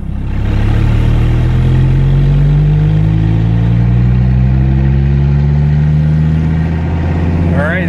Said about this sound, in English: we're gonna do a fourth gear roll down from 20 to 50